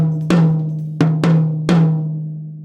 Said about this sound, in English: So this is our high tom,